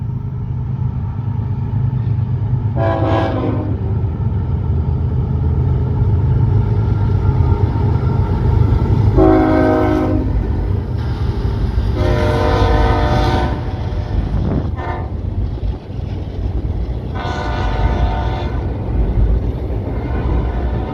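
A heavy CSX freight train with a wide-body locomotive and natural gas tender rumbles past continuously, close and loud, while its horn sounds in several long blasts spread across the passage.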